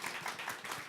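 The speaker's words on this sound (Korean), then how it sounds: "박수로 환영하겠습니다" Congregation at a Sunday church service claps to welcome two missionaries, a dense, steady patter of many hands filling the room for about a second.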